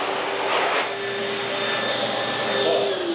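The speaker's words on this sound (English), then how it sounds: "automatic hand dryer" An automatic hand dryer in a laundromat bathroom blows with a steady, loud rushing roar and a faint whine, continuous throughout without pauses.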